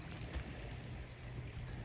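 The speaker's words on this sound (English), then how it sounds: "I hear a waterfall." A waterfall on a spring-fed creek swollen after big rains gives a steady, broad rushing hiss, moderately distant and unbroken, with no voices.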